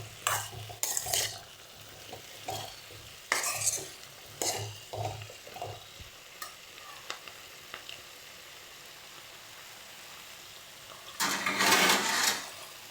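Food frying in a pan with salt just added, stirred in a series of bursts of scraping and clinking over a steady sizzle, then a longer, louder stretch of stirring near the end.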